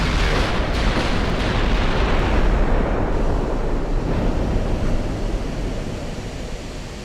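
Heavy naval guns firing armor-piercing shells in Ultimate Admiral: Dreadnoughts, a loud booming blast that rolls into a long rumbling roar and slowly fades, with no talking.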